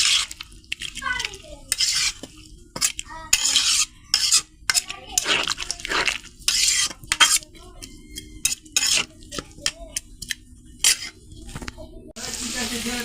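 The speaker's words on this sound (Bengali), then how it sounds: "খুব ভালো করে নাড়া দিয়ে ঢাকা দিয়ে দেবো।" Metal spoon scraping and clinking against a pot of bitter gourd and jackfruit seeds in repeated irregular strokes, close up, with a faint sizzle beneath.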